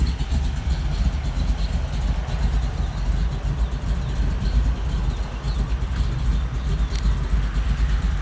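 A 1959 Chevy engine with its exhaust cut off idles close by, giving a steady, deep, lumpy rumble with a rhythmic lope from the cam. No one talks.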